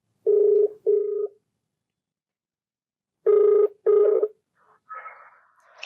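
Telephone ringback tone on an outgoing call, two double rings separated by a long silence, clear and close, followed by a faint voice answering.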